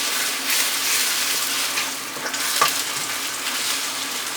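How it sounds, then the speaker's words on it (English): An egg fries and is stirred around a stainless steel pan, giving a steady, close broadband sizzle with one small clink of a utensil against the metal partway through. "We've immediately got to go in with the stainless steel and kind of mix things around here."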